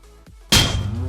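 A quiet pistol shot in the Minecraft video game: after a soft low thump, a sudden sharp burst lands and then fades into a lingering noisy tail.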